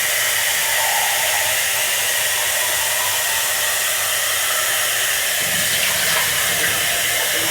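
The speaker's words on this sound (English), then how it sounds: "I have my cup in the other sink so that I can just rinse it." Water runs steadily from a sink tap while a cup is rinsed, a continuous hissing rush that stays even and close throughout.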